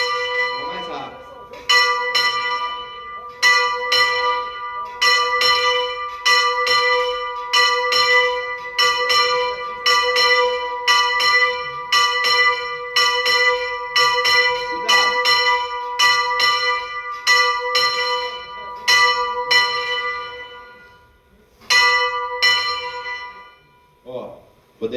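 Church bell in São João del-Rei swung and rung, loud clanging strikes repeating in quick succession with a brief pause and resumption, bright ringing overtones throughout, alone without talk.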